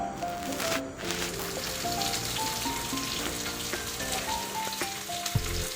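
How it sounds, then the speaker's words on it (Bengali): Paneer pieces coated with salt and turmeric frying in hot oil, a steady crackling sizzle close by, with background music playing over it. "পনিরগুলোকে কেটে নিয়েছি এবং নুন হলুদ দিয়ে মাখিয়ে রেখেছি এবার ওগুলোকে ভেজে তারপরে গ্রেভিতে ফেলে দেবো"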